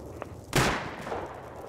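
A rocket blast lands during a raid in a shooter game, one loud sharp burst near the middle that decays into a roaring tail, with a faint crack just before it.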